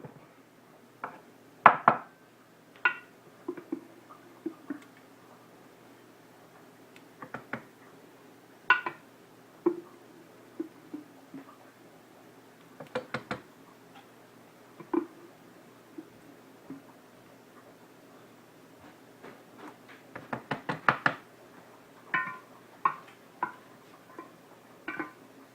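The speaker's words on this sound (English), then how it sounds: "we're going to spoon all of the butter out of the churn now" Homemade butter spooned out of a butter churn into a bowl: scattered light clinks and knocks of a spoon against the container, in irregular clusters with quiet pauses, no talking.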